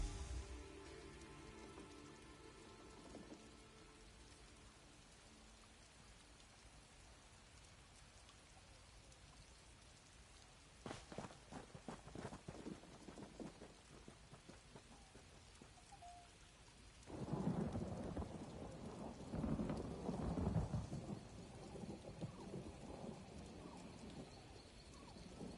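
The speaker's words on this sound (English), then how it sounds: "I could do without this damnable rain. It's been storming since we arrived" Steady rain falls throughout a thunderstorm in the video game Elder Scrolls Online, with a thunder crack near the middle and a louder, longer rumble later on; no one speaks.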